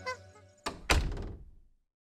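A door being opened: a soft knock-like bump, then a heavier wooden thunk that rings briefly and fades out into silence, close and alone with no voices.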